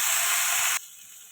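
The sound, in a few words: okra frying in oil with salt and turmeric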